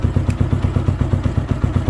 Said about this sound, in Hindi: बाइक बिल्कुल नॉर्मल खड़ी है आइडल पर